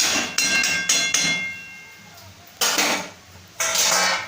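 A metal lid set onto a pot of goat liver curry, several sharp clanks and rattles with ringing tails, then two more distinct knocks after a short pause, close and loud.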